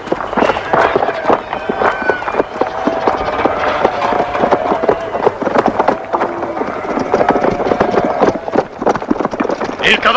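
Horses gallop away in a hurry, rapid clip-clop hoofbeats pounding on for about ten seconds, loud and near, mixed with rustling and shouted voices.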